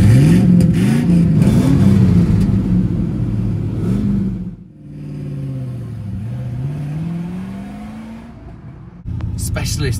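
A Rover SD1 Vitesse's 3.5-litre V8 revs up and down repeatedly, close and loud, with rising and falling engine pitch, a brief dip, then a second run of revving and a sharp burst at the end; talk may sit underneath.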